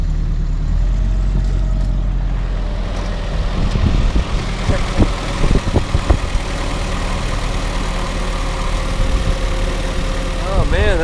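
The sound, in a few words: 1946 Willys CJ2A Jeep engine idling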